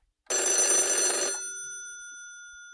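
An old-style telephone bell rings loudly once as a radio-drama sound effect, then fades with a ringing tail and a short sound at the end.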